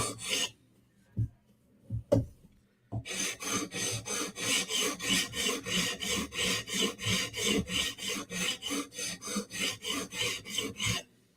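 A knife scrapes across a whetstone, first in a few separate strokes, then in a long run of quick, regular rasping passes heard up close.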